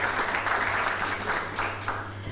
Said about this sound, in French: On vous applaudit chaleureusement